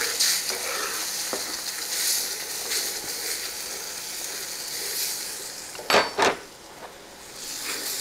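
Tomato gravy sizzling in a pan while being stirred, a continuous bright frying hiss with soft scraping strokes and a couple of sharp clanks of utensil against the pan near the end.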